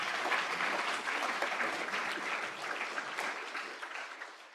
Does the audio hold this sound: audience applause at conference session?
yes